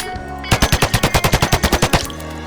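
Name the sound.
gunfire in the video game Project Zomboid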